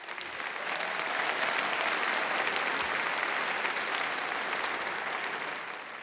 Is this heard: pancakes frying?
no